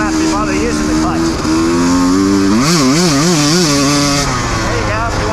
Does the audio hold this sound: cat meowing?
no